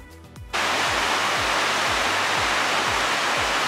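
Bow Falls on the Bow River in Banff roars as a loud, steady rush of falling water, starting abruptly after a brief quieter moment and continuing at full strength alone.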